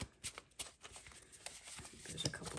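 Tarot cards are shuffled by hand in quick papery riffles and soft slaps, a close, fairly quiet run of rustling bursts with no talk over it.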